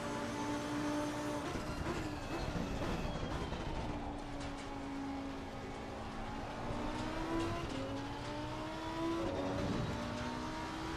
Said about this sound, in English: The Lexus, for me, it's just the sound of the car.